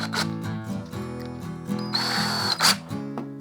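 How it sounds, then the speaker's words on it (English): A power drill fitted with a bigger bit while mounting a guitar wall hanger: a steady tonal motor whine with short pauses, rising into a louder, brighter burst of drilling near the end, close by. "we're gonna wanna get our bigger drill bit back on."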